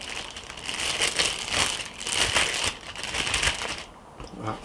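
Plastic Ziploc bag crinkling and rustling in steady bursts as a lamb shoulder is dropped in and handled, close and fairly loud.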